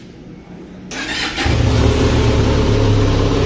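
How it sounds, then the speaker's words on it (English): A 2021 Benelli TRK 502 500 cc motorcycle fires up after a quiet moment and settles into a loud, steady, deep exhaust rumble close by. "So we will also hear the exhaust note of this motorcycle."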